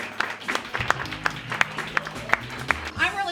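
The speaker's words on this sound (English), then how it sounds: "Give yourselves a round of applause for coming out tonight." Applause from the crowd at a comedy road show, a thinner scattering of claps with a few sharp, distinct hand claps standing out above a background of room murmur and faint voices.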